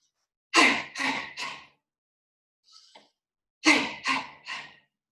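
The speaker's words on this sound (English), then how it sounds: "we're gonna go ha, ha, ha, and we're gonna forcefully exhale" Three forceful breathy exhales in a quick rhythm during a qigong class, then a faint short breath, then another set of three sharp exhales, close and fairly loud with no talking.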